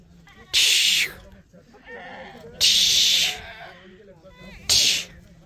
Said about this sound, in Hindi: अभी देखो सारी भेड़ बकरियां जाने लगी हैं चरने के लिए बुग्यालों की तरफ।